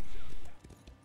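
Horse hooves from The Elder Scrolls Online during a PvP fight: a brief, dense rush of clip-clopping galloping that cuts off partway, leaving a few fainter hoof thuds amid game noise.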